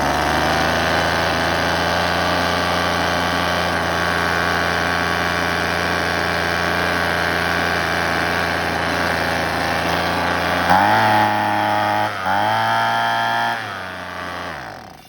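A 2011 Husqvarna 125b leaf blower, fitted with a new carburetor after a no-start problem, runs steadily off choke. The close, loud two-stroke drone holds even, then near the end shifts pitch and revs briefly before dropping.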